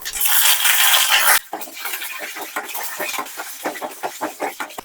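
A tempering of dried red chilli, garlic, curry leaves and seasoning seeds for a tamarind chutney crackles loudly in a pan at first, then a spoon scrapes and clinks against the metal in repeated short strokes.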